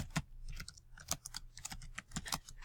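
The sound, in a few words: typing on computer keyboard in Excel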